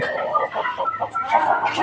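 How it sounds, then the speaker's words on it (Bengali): Quail calling loudly near a house, a close, loud burst of clucking, chattering calls in quick succession with no speech over it. "যে শুনতে পেলেন যে কোয়েলের ডাক ডাক ও প্রচুর উচ্চস্বরে ডাকে"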